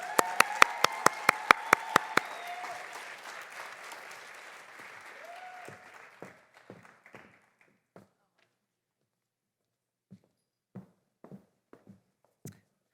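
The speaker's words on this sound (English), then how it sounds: "give her a round of applause" Audience applause at an evening keynote event, dense clapping for a couple of seconds with sharp hand claps, thinning out to scattered claps and then fading to a few isolated taps near the end.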